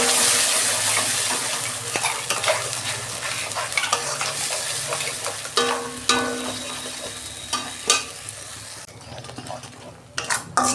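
Spice paste hits hot oil in a wok for stuffed snake gourd and sizzles loudly. The sizzle eases gradually as a utensil stirs and scrapes with intermittent knocks, quieter toward the end.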